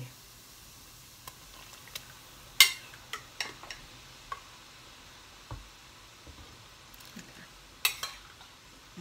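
Mushrooms drop into a pot of boiling curry, giving faint splashes and clinks of a utensil against the pot, scattered sharp knocks over a low bubbling background.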